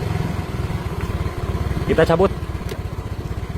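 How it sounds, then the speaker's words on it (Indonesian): A Yamaha Mio M3 scooter engine idles steadily at close range with a fast, even putter, while someone talks over it briefly. "Nah, motor sudah hidup guys."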